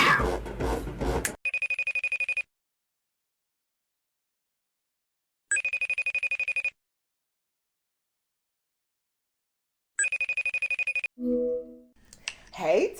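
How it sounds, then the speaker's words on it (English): A telephone rings with an incoming call in three loud electronic bursts separated by long silences, a voice briefly heard before the first ring and a short sound after the last. "You have an incoming call, girl. Answer the phone."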